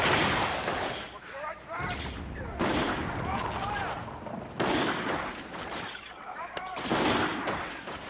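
Pistol gunshots in Infinite Warfare, bursts of sharp shots in several clusters across the span, loud and close, with game effects and a player talking between them.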